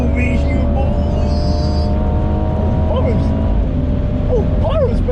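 BMW M240i and BMW M2 on a race track, a steady loud engine drone from inside the car with occasional rising revs and brief tire chirps, a voice talking over it.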